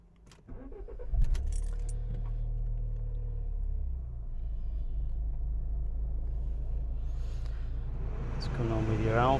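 An Alfa Romeo Giulietta 1750 TBi Quadrifoglio Verde is started with a brief crank and catch, then settles into a steady low idle rumble heard close up, with a voice speaking over it near the end.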